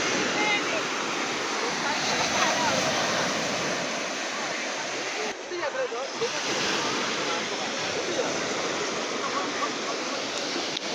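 Steady, broad wash of calm sea waves rolling in near fishing boats, soft and continuous with gentle swells, heard outdoors without distinct crashes.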